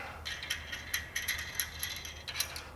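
Nut being tightened by hand during a Gorilla Lift install, a run of quick light metallic ratchet clicks in short bursts, close and fairly quiet with no talking.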